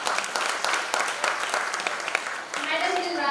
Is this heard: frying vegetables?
no